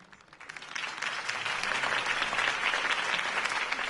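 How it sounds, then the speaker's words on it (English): In Batman: The Telltale Series, a crowd applauds after a campaign speech for Harvey Dent, the clapping swelling quickly from a few hands into a full, sustained ovation. "could have heard that applause"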